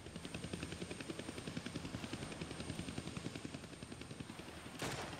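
A helicopter in a Deadpool video game hovers with a rapid, rhythmic rotor chop that stays steady throughout, faint and somewhat distant, and a brief burst of noise near the end.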